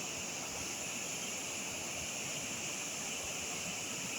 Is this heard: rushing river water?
yes